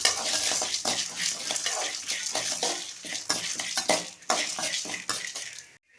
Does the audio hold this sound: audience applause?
no